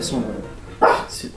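A Yorkshire terrier gives a short, sharp bark, close and loud, with someone speaking French just before it.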